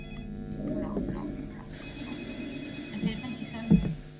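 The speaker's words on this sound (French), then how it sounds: "Un téléphone qui sonne." A telephone rings inside a Roblox game, a steady electronic trill sitting at moderate level beneath a person talking over it.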